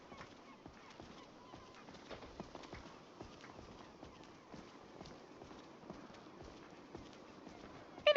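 A horse's hooves clip-clop at a steady walking rhythm across terrain in Skyrim, the quiet, even footfalls continuing throughout at a low level.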